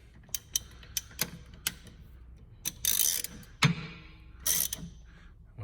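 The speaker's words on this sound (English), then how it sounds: "That is a 22mm. Go ahead and put it on the end. grab a ratchet." A ratchet fitted with a 22mm socket is clicked by hand during lowering-spring installation on a 2019 Dodge Challenger R/T. Spaced single clicks and short bursts of rapid ratcheting sound close and crisp, and a heavier clunk comes midway.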